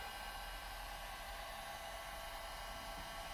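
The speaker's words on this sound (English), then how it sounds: "Just melt the surface as quickly as possible." Steady, faint airy roar of a heat gun blowing continuously while melting the surface of degraded thermoplastic during a plastic repair, unbroken and constant with no voices.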